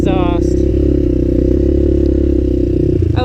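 Suzuki LTZ 250 ATV engine fitted with a DG Performance RCM II aftermarket exhaust, idling in a loud, close, steady rumble with a short rev at the start and another at the end.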